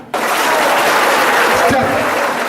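A large audience claps together in a sustained, loud wash of hand claps that starts abruptly and holds steady, with a brief voice surfacing near the end.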